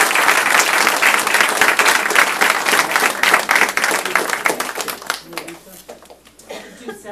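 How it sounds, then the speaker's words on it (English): Dense applause from a school committee meeting audience after awards, loud and continuous at first, then thinning into scattered claps and fading out with a few voices and chuckles near the end. "Round of applause for everyone."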